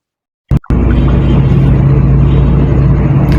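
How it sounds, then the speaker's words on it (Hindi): Outdoor background noise of wind, passing vehicle traffic and distant people forms a loud, steady broadband rumble that starts abruptly after a brief knock and continues unbroken to the end. "मेरी आवाज के अंदर हवा का शोर भी है, गाड़ियों का शोर भी है और थोड़ा बहुत लोगों का शोर भी आ रहा है।"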